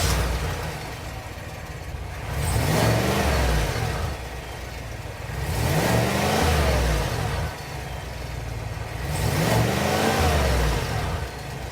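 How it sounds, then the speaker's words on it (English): A 2023 GMC Sierra AT4 pickup with a 6.2-liter V8 revs hard three times, each exhaust roar rising and falling back toward idle, loud and close with no talking. "now let's do a startup and exhaust on this vehicle"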